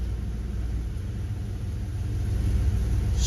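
A 1998 GMC Jimmy or Chevy Blazer engine idles with a steady low rumble, close and fairly loud, rising slightly toward the end, with no talking.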